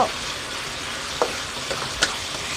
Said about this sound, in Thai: กระเพราลงไปค่ะ กระเพราลงไป ผัดให้เข้ากันค่ะ